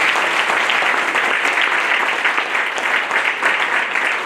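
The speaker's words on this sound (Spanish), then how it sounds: "Denle un aplauso al hermano que está a su lado." A Spanish-speaking church congregation bursts into loud, dense applause for the people beside them, a sustained wash of many hands clapping at close range.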